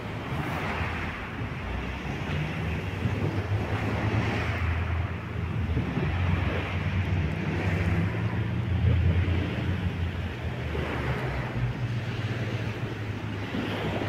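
Sea waves at dawn on a winter shore near Sukhum, washing in with a continuous soft roar at a moderate distance, with light wind buffeting the microphone.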